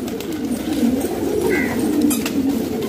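Pigeons coo softly in a low, warbling murmur, steady over faint outdoor background noise, with a light flutter near the middle.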